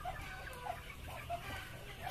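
Chickens on a small livestock farm give short, scattered clucks at a moderate distance over a steady background hum, with no talk.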